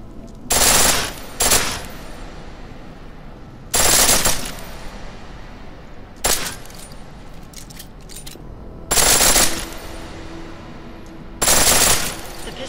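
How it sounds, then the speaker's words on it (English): Pistol firing full auto in Deus Ex: Mankind Divided, five separate rapid bursts of gunfire spaced a couple of seconds apart, loud and sharp against a quiet game background. "The pistol in full auto will take down targets fast, but it'll burn through your ammo"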